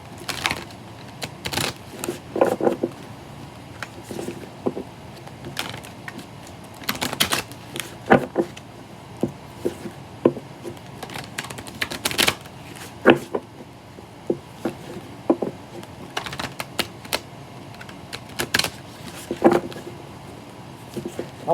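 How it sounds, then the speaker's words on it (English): A deck of tarot cards is handled and shuffled in a quiet room, with irregular soft clicks and flicking bursts scattered throughout. "It's kind of a hard deck to shuffle."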